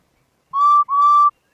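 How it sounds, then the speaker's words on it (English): A steam engine's whistle in a children's train story sounds in two clear, loud tones, a short blast and then a slightly longer one, with silence around them. "He was so cross that he blew his whistle to make Bertie go."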